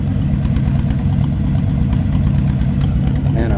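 A 1955 Chevrolet Bel Air engine idles with a steady, low, continuous rumble, heard close and fairly loud with no talk over it.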